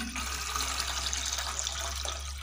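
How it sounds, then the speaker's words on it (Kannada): Water pours into a vessel in a continuous, close rush that stays even throughout, with a low steady hum running underneath. "ಈಗ ಪಾತ್ರೆ ನೀರು ಹಾಕ್ತಿದ್ದೀನಿ"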